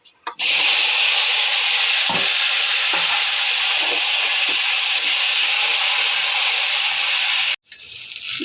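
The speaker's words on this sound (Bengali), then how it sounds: "আমার আলু ভাজা হয়ে গেছে" Potatoes fry in a hot pan with bay leaf, a loud continuous sizzle broken by brief scraping stirs, cut off sharply near the end.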